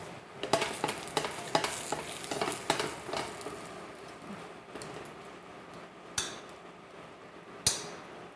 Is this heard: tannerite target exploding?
no